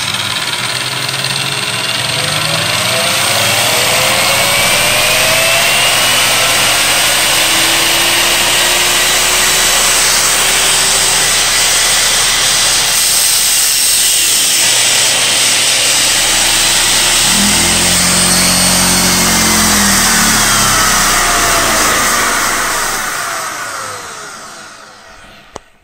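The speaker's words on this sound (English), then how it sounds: "So this is a 120 volt grinder as well." A 120 volt grinder runs loudly and continuously, a steady motor whine with a broad rushing hiss, holding nearly constant before winding down at the end.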